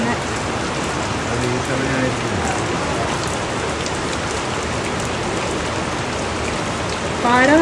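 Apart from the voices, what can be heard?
heavy rain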